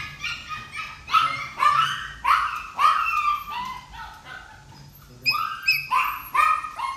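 Golden retriever puppies whimper, yip and bark in a steady run of close, overlapping cries, with a short lull before a fresh burst of yelps near the end.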